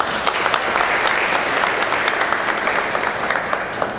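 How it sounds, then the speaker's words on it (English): An audience at a city event gives a steady round of applause for local clergy, a dense wash of clapping that holds evenly from start to finish. "Let's give them a big round of applause."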